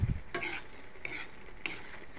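Shrimp with salted egg fries in a pan under a steady, soft sizzle, while a utensil scrapes and stirs through it three times at a slow, regular pace; nobody speaks.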